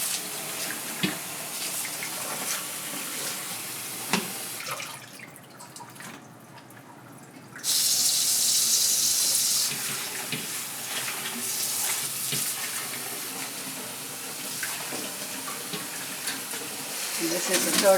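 Tap water runs into a sink as salted cabbage for mak kimchi is rinsed, with splashing and handling of the leaves and a louder burst of flowing water partway through.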